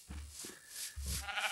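Video game sheep bleat twice in quick succession, close and clear, each a short wavering baa with a brief pause between.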